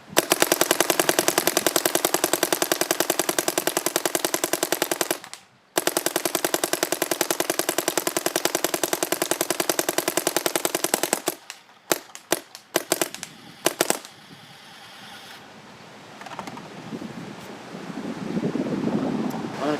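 An NXL paintball gun fires in fast semi-automatic bursts, a dense rapid stream of sharp pops for several seconds, a short pause, another long burst, then scattered single shots and outdoor wind.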